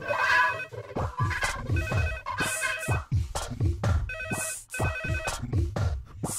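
A telephone rings in repeated bursts indoors, loud and clear, with no voices over it.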